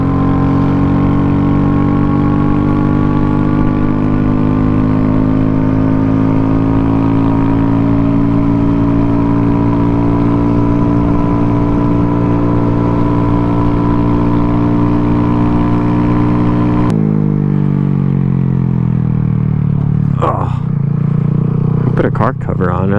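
A Honda Grom motorcycle engine drones steadily and loudly with rising harmonic tones, then shifts lower near the end with a few brief revs and bumps, heard up close while riding.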